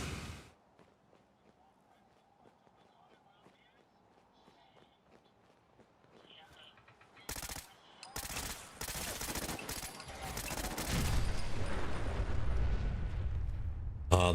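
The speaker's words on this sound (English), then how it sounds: "I hear robot machine gun fire." Bursts of robot machine gun fire in Fallout 4, starting as a few sharp cracks and building into dense, loud sustained automatic fire amid combat noise, after a quieter stretch of footsteps and ambience.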